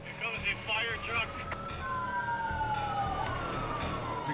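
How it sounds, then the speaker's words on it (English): A fire truck siren wails past on a highway, its rising and falling tone sweeping across a steady rumble of traffic, with a voice talking underneath early on. "Here comes the fire truck."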